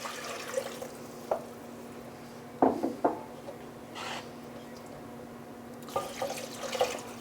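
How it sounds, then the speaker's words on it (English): Plain water poured from a tap or container into a cooking pot for pasta e fagioli, heard as a few short splashing bursts and trickles with pauses between, fairly quiet and close, with no talk. "And now I'm going to add water."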